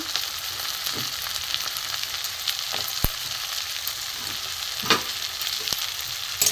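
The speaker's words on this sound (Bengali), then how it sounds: "ছোটো করে আলু কাটা আছে, এর সাথে আমি ভেজে নেবো পেঁয়াজ, রসুন, টমেটো।" Small-cut potatoes fry with onion, garlic and tomato in a pan over high gas. The sizzle is soft and constant, broken now and then by stirring scrapes and taps.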